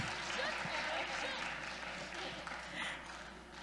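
Audience applause at a youth conference poetry slam, a steady wash of clapping from a crowd held for a few seconds at moderate level, with no voices over it.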